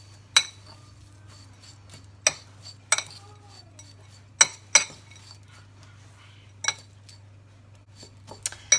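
A spoon stirs muesli and grated carrot in a bowl, knocking against the sides in a handful of sharp, separate clinks spread over several seconds, close by, over a steady low hum.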